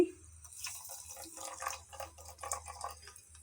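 Water poured into frying onion and spices in a mini toy kitchen pan, a soft, faint splash and sizzle with dripping bursts that stays steady for a few seconds.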